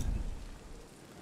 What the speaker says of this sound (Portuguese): Eu amo esse barulhinho de chuva.